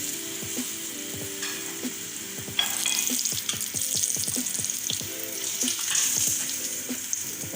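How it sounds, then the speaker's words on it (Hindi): Moli paratha fries in ghee in a pan, a steady close sizzle punctuated by a quick series of light spatula taps and scrapes as it is turned, with no speech. "एक साइड से फ्राई हो चुका है, साइड चेंज कर देते हैं"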